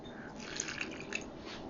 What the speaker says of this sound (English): I think I'm going to start adding some broth